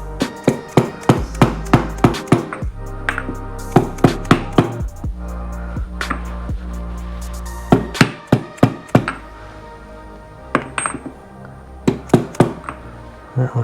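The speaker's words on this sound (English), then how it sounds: "I just have a large socket to kind of tap that in" A large socket taps a new seal into the side case of a Yamaha Raptor 700R engine, producing a series of sharp metallic knocks in irregular bursts, close and loud with no talking.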